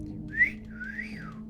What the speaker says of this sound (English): Cat whistle.